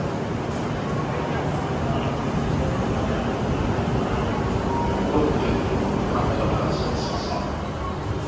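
Inside the Grand Class cabin of a Japanese Shinkansen bullet train in motion, a constant low rumble and broad hiss of running noise fills the space evenly, with no distinct events and no talking.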